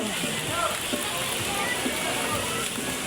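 Steady rain at a resort in Infanta, Quezon, making a dense, continuous wash of drops, with people talking faintly over it.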